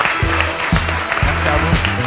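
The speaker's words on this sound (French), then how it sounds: "Sous vos applaudissements, bien sûr." Studio audience applause at the close of a French talk show, heard as a dense wash of clapping that carries steadily through the whole short moment, with a voice speaking over it.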